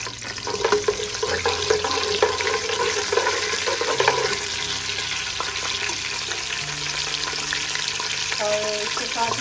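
Nigella seeds crackle and sizzle in hot oil for a potato curry, a steady broadband frying hiss with scattered pops, close and continuous, with brief tonal clinks of a utensil near the end.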